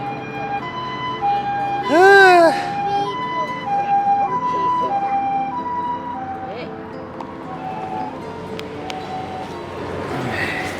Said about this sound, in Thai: รถพยาบาล เนี่ยวิ่งไปแล้ว